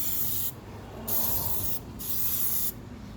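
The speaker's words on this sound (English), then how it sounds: "Putting the second coat of the DEI high temp spray" Bursts of DEI high-temperature spray paint hissing from an aerosol can during a second coat on car parts, several steady sprays separated by short pauses, close and loud with no talking.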